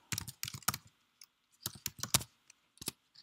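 Computer keyboard typing while editing code in Emacs, heard as clustered bursts of crisp key clicks separated by short pauses, close and fairly quiet.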